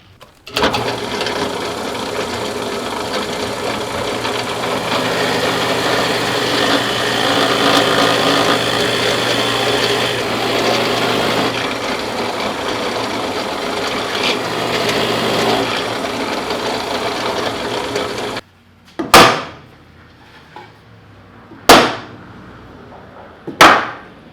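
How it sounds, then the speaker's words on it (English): A power drill whirs steadily and loudly for a long stretch, drilling dowel holes in a wooden board, then stops, followed by three sharp knocks spaced a few seconds apart. "Okay, we got all our holes drilled."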